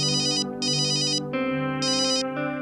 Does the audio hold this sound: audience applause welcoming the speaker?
no